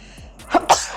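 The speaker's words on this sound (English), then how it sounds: "gotta sneeze." A person sneezes once, a quick two-part burst with a short intake then a sharp explosive release, close to the microphone and clear with no talk.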